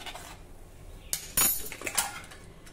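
A metal spoon stirs salt into boiling water in a cooking pot while pigeon peas are prepared, making a few sharp clinks and scrapes against the pot's side, close and fairly loud over a soft bubbling hiss.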